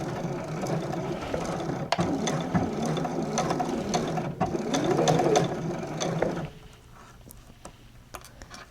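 A sewing machine stitches slippery fabric held with pins for a dress, a steady close mechanical whirr and clatter running for about six seconds before stopping, leaving a quiet room.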